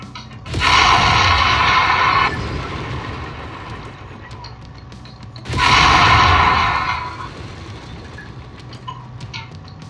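Mech lasers fire in Mechwarrior 5 Mercenaries: two loud, sustained buzzing beam blasts, each about two seconds long with a sharp start, separated by a lower rumbling gap.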